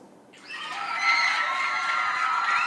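Audience at a school academic contest between Christ Model Academy and rival schools cheers and shouts for the winners, a swelling crowd noise with children's voices rising after a quiet start and staying loud.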